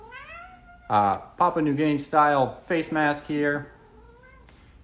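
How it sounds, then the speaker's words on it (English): Pet cat meowing indoors, a string of several loud, drawn-out meows and a yowl close by, while someone talks softly over parts of it. "You can hear my cat in the background."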